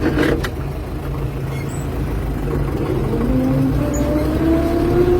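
YUMZ-6 tractor driving off during hay making in a Ukrainian village, a loud steady diesel engine drone with a rising whine as it pulls away, close and continuous.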